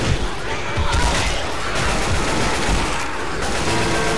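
Rapid automatic gunfire from the zombie shooter Left 4 Dead 2 fills the whole stretch, dense and loud, with bursts blending into a continuous rattle and a few heavier impacts.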